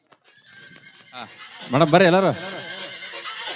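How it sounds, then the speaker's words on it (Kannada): A horse whinnies loudly nearby with a long, wavering, descending neigh, set against outdoor background noise and faint rhythmic tapping, while a person speaks briefly. "ಏ ಕಾಡು ಕುದುರೆ ಓಡಿ ಬಂದಿದ್ದ."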